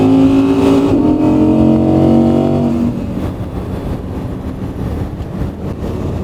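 Supercar engine heard from inside the cabin with the roof closed while driving through a tunnel in Marbella, a loud sustained roar with strong harmonic tone that drops away into a lower, rougher rumble as the revs fall.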